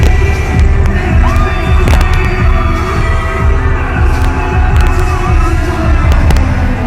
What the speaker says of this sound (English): bass and a mixture of screaming teens and soccer moms